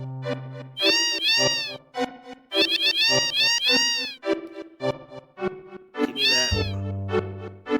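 Repeated loud, close meows from a cat in Final Fantasy VII come in quick clusters with brief pauses, and a voice speaks briefly partway through.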